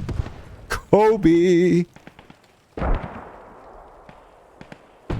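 Grenade explosions in a team shooter match, several sharp bursts with decaying rumble spread across a few seconds, mixed with game effects and an excited commentator talking over them.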